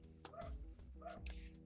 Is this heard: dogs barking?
yes